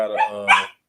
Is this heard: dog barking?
yes